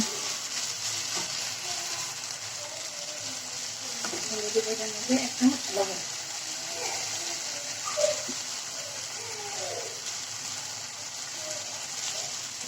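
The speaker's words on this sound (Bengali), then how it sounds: "এগুলো একটু ভাজা হওয়ার পরে একটু পানি দিব।" A low, quiet sizzle of garlic paste frying in a pan, with a few soft stirring scrapes and clicks in the middle.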